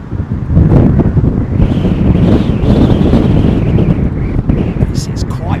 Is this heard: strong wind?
yes